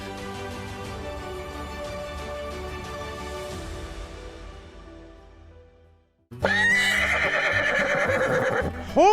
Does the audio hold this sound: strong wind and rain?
no